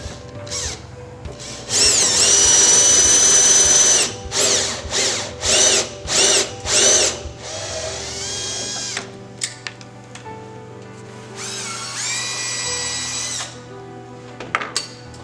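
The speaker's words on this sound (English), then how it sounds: "we got those standoff holes drilled" A power drill bores standoff holes through a plexiglass space guard on an elevator hoistway door. Loud, close whining bursts come first in a long run, then several short pulses, then another sustained run.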